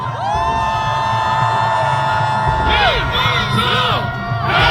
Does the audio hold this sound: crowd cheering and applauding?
yes